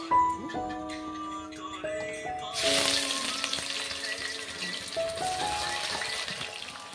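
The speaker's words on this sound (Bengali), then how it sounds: "মা এদিকে দারচিনি, এলাচ, লবঙ্গ, তেজপাতা দিয়ে পেঁয়াজটা চাপিয়ে দিল" Onion frying in hot oil with cinnamon, cardamom, cloves and bay leaf in a home kitchen, a loud sizzle bursting in partway and settling into steady crackling, with faint utensil clinks and tones beforehand.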